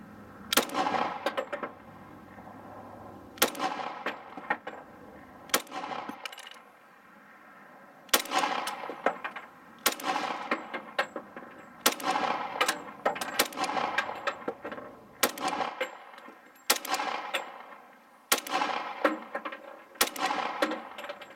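A Glock 21C fires .45 Winchester hollow points at a steel brake disc outdoors, about a dozen sharp, loud shots spaced a second or two apart, each with a brief ringing decay.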